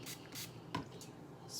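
Two or three short, close hissing bursts of hair spray, separated by brief pauses, with faint handling noise between.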